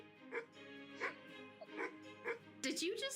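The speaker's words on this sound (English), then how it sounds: "Did you just bark at me?" A dog in the Near-Mage video game gives a series of short yips and barks in an even rhythm, moderately close, with a brief burst of other game sound at the end.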